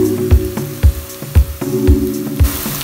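Onions frying in a pan for keema curry, a steady close sizzle with rhythmic thumps and scrapes of a spoon stirring roughly every half second.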